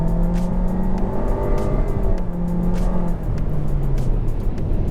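A Honda HR-V engine revs loudly and repeatedly, the pitch climbing and falling with each throttle blip, close and continuous.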